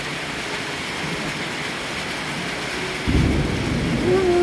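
Thunder rumbles during a thunderstorm over Siegburg, a steady low roar under rain that swells into a heavier, deeper rumble near the end.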